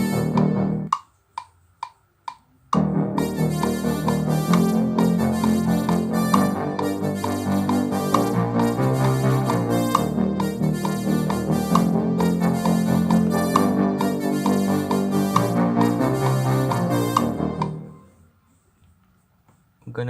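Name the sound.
spectrum echo synth background melodies in GarageBand on iPhone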